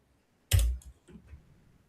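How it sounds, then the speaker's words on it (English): A quick cluster of computer keyboard keystrokes, one sharp loud clack followed by a few softer taps within about a second, close and otherwise quiet. "Oh, typing too fast."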